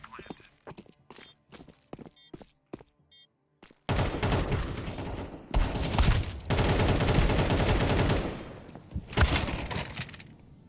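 Counter-Strike 2 gunfire, sparse sharp shots and footstep-like clicks at first, then long sustained bursts of loud automatic fire with brief pauses between volleys.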